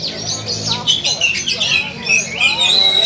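Oriental magpie-robin (kacer) in full song at an Indonesian bird-singing competition, a rapid string of clear whistled phrases and chirps rising and falling over about three seconds, near and loud against a busy background with voices.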